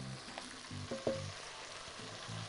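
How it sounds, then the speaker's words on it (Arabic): Corn kernels fry and sizzle in a hot pan while being stirred, giving a steady close crackle broken by a few sharp scrapes and knocks of the utensil, with no talking. "هنزل بالذرة دلوقتي كده وأقلب مع كل الحركات دي"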